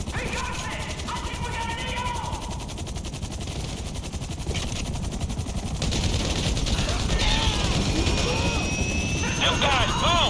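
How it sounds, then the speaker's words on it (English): Merryweather attack helicopters in GTA V thrum overhead amid bursts of automatic gunfire and explosions, a loud, dense battle din with shouting voices layered over it. "Some more Merryweather helicopters!"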